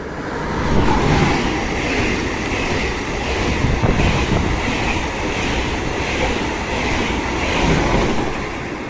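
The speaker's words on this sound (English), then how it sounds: "So you got trams and intercity ICE trains on the same tracks." An intercity ICE train rolls past on mainline tracks near Karlsruhe, a loud, sustained roar of wheels and air with faint clattering, swelling and easing slightly over about nine seconds, no talking.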